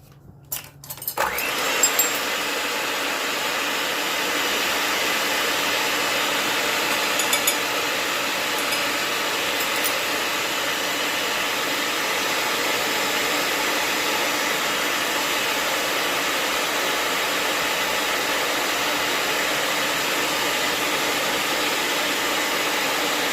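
After a few knocks, an electric mixer starts up whipping egg yolks with cream of tartar and runs on as a steady, close, hissing whir without a break.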